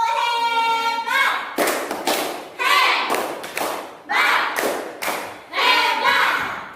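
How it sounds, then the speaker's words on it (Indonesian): Primary school pupils in an Indonesian classroom performing a rhythmic group clapping chant, several sharp bursts of claps and thumps in a patterned sequence, with children's voices calling along. "Berikan tepuk hebat untuk kelompok 2."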